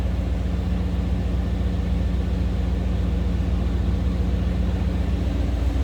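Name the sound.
1993 Chevrolet C1500 truck dual exhaust running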